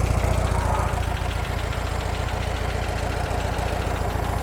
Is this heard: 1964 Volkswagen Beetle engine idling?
yes